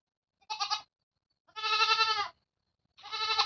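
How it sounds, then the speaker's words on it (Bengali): Young goats, their mother just sold, bleat in three loud, close, wavering cries separated by short silences, the middle one longest. "এর জন্য ছাগলগুলো একদম কান্না করছে"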